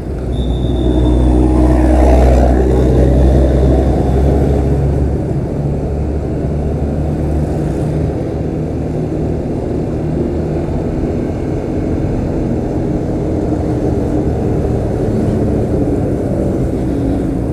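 Busy road traffic in Mojokerto, a loud continuous roar of passing engines close by, swelling at the start and holding a steady dense rumble throughout, with no voices.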